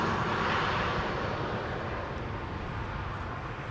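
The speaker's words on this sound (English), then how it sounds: "Hans' favorite, Welling, arriving from Barcelona, flight 8309 and A320." An Airbus A320 airliner arrives at Amsterdam Schiphol Airport from Barcelona, its jet engines giving a loud, steady broadband roar that fades slightly over a few seconds, with no talking.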